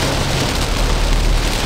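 Heavy rain pours steadily, a dense, loud, unbroken hiss with a low rumble underneath, close and constant throughout.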